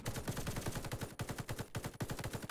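A Type 97 machine gun firing in Warface, a fast, steady automatic stream of close, punchy shots with only two brief breaks in the rattle.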